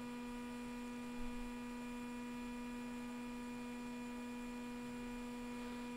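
Steady electrical hum from a hot air rework station as its nozzle preheats an iPhone logic board, a constant low drone with a fainter airy hiss, unchanging throughout and heard alone without talk.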